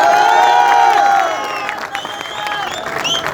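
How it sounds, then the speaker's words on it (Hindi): A crowd at an outdoor political gathering claps and cheers loudly, with a strong horn-like tone and shouts layered over the clapping, fading slightly after a second and continuing raggedly. "एक बार जोरदार तालियां हो जाए खुद के लिए भी"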